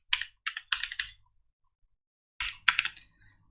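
Typing on a computer keyboard while writing code, close crisp clicks in quick bursts of keystrokes separated by a pause of about a second.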